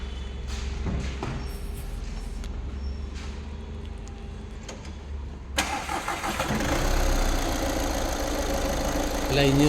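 A Volkswagen Polo TDI Highline diesel, a used car for sale in Mysore, cranks and fires into a loud, steady diesel idle about halfway through, after quieter background noise with faint voices.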